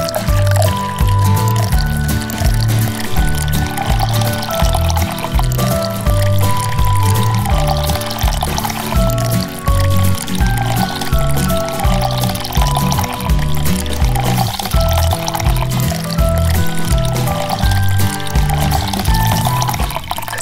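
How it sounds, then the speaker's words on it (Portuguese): Water is poured from a container into instant snow powder during a children's home activity, a steady loud splashing flow that continues without pause throughout. "E agora eu vou colocar água."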